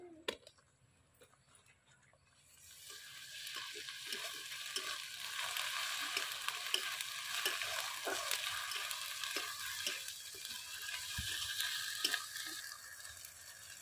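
Ginger garlic paste hitting browned onions in a pan for chicken do pyaza: near-silence, then a bright, close sizzle that swells up and holds, with scattered scraping stirs and clinks throughout.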